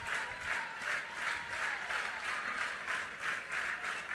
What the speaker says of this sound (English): Everybody claps.